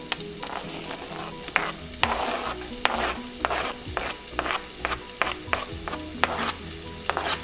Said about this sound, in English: I'm adding the chilies now, and chopped onion, medium size onion